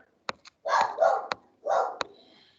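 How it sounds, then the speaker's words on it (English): A dog barks somewhere behind a speaker during a phone-plan training session: a few sharp yips, then three rougher bursts of barking, moderately loud and close, with no talk over them. "I apologize for my dog barking in the background."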